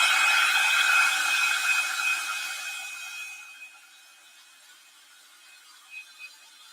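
A hair dryer blows on a wet paintbrush, its loud, airy whine running steadily for a few seconds before cutting off and fading into quiet, with a couple of faint knocks near the end.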